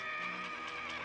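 A cartoon horse in a Smurfs episode neighs loudly in a single drawn-out whinny with a bright, shrill tone.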